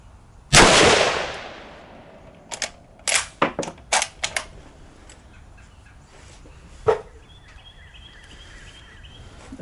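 Single rifle shots from an Ishapore 2A1 in 7.62x51 at an outdoor range: one loud close crack with a long decaying echo, then a cluster of sharper reports and a later lone shot, with a faint dog barking in between.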